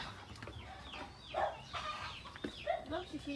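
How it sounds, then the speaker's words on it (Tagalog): Many chickens cluck and squawk close by in a rural Philippine coop, overlapping calls rising and falling over a low background hum, with a few louder sharp cackles. "Ito yung manukan niya. Dami oh."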